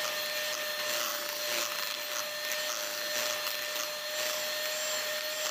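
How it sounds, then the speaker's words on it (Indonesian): An electric mixer beats butter at high speed, holding a steady, high-pitched whirring drone for the whole stretch, close and constant, with a thin tonal hum and no talking. "turunkan kecepatan mixer sampai mixernya mati"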